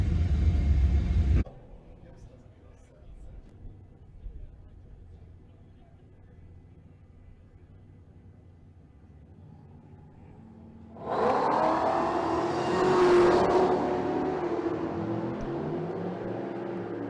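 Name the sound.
hot rod drag car engine at drag strip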